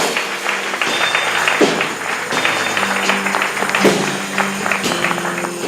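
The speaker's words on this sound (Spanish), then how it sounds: "Dale un aplauso a Él." A church congregation applauds during a Spanish-language worship service: dense, steady clapping with musical tones beneath it, loud throughout.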